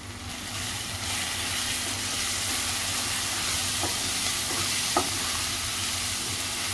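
Turmeric and homemade Koli masala stirred and frying in a hot pan for chole, a steady close sizzle with soft scraping under it, no voices.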